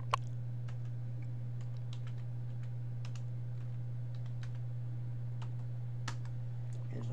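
Someone types a password on a computer keyboard, with quick irregular clicks over a steady low electrical hum, close and moderately quiet, with no speech.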